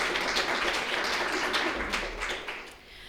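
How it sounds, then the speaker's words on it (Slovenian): A symposium audience applauds at the opening of a round-table session: dense, steady clapping fills the full stretch at moderate loudness, with no voices over it. "Tako da bi vas za začetek prosila za en velik aplavz za vse sodelujoče"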